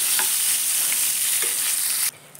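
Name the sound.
brinjal pieces frying and being stirred in a pan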